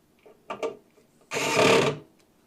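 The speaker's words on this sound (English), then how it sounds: "Take the screw that I showed you before, which is the small screw for the motherboard, and start screwing them in one at a time." Small electric screwdriver whirring as it drives motherboard screws into standoffs during a PC build, a couple of brief clicks followed by a single close buzz lasting under a second.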